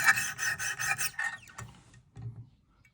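A 10-inch White River fillet knife drawn across a whetstone with very light pressure, making a rapid run of close, raspy scraping strokes that slow to a few spaced rubs and then fall quiet.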